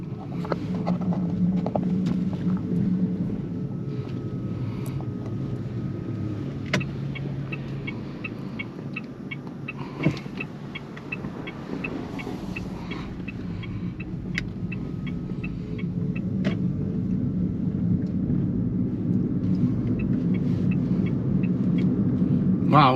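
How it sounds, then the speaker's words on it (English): Steady road and tire noise inside a Mitsubishi i-MiEV electric car while driving, a low continuous rumble with light ticks and bumps and no engine sound, with occasional talking. "the only thing that you're going to hear is obviously the road noise and the tire noise"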